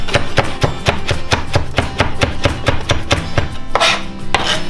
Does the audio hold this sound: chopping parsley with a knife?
yes